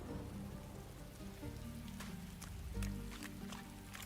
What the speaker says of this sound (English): So at this point in time, the rain has gotten more so.